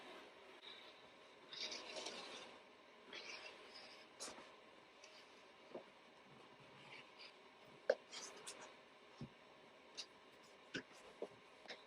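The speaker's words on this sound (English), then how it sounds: "I'll go ahead and cut it out." Fabric pattern piece being cut out for sewing a striped garment, a faint, sparse series of soft snips and scratchy rubs with quiet pauses in a still room.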